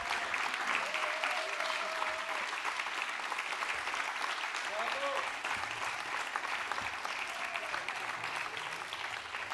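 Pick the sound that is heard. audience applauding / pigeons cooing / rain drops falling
audience applauding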